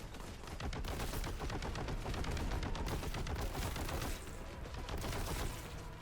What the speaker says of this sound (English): Oh, there's shooting.